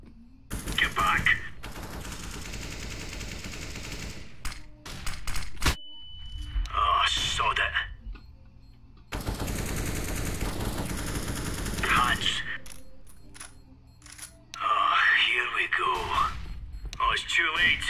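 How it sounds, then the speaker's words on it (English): Bursts of automatic gunfire in a multiplayer shooter video game, several long sustained volleys separated by pauses, with players shouting and talking between and over the shots. "Keep shooting!"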